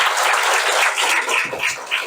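Audience clapping at a school acting workshop for elementary pupils, a dense burst of applause lasting about two seconds, loud and close with no talking.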